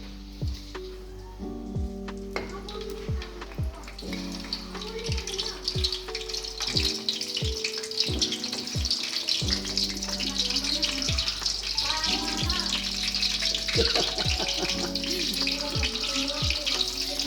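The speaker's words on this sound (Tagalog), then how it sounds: "Prito muna natin yung saba." Steady crackling sizzle of saba bananas frying in oil, close and continuous, with a low hum and occasional clinks and faint voices in the background.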